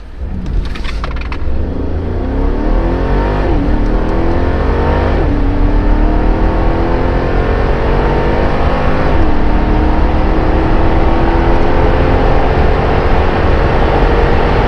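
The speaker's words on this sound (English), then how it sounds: "So yeah, acceleration, I think it's really impressive for a big car like this." A Mercedes G63 AMG accelerates hard on a cold day, its engine roar climbing through several gear changes with a dip and rise at each shift, loud and close from inside the cabin.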